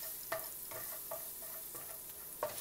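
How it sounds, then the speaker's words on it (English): Pan on a stove gently sizzling as pad thai ingredients fry, a soft steady crackle with a few brief stirring scrapes spaced through, fairly quiet and with no talk. "Now let's heat that pan up."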